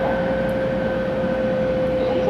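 800 Series Shinkansen running from Hakata toward Kumamoto, heard from inside as a steady rumbling hum with a sustained tonal whine, continuous and even.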